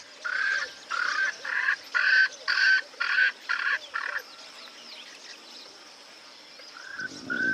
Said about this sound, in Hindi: छोटे से इस पक्षी की आवाज बहुत तेज है।